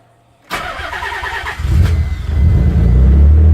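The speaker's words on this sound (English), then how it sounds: "Let's see if she starts." A Japanese-market Nissan Fairlady 300ZX starts up: a short cranking whir, then the engine catches with a loud, close roar that settles into a steady, deep idle.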